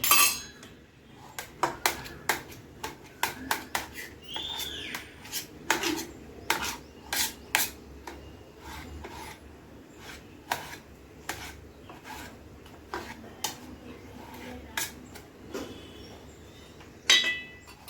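A knife cuts mango into small pieces on a board for aamras, giving a series of sharp clicks and taps with soft rubbing between them, close and fairly quiet, with no voices.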